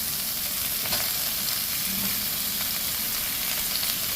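Chopped cucumber cooking in a frying pan for Kerala aviyal gives a steady, close hiss with faint stirring scrapes throughout, and no voices.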